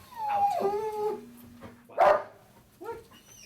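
A police narcotics detection dog, close by, lets out a drawn-out howling bark, then a sharp yelp and a shorter whine, with quiet pauses between.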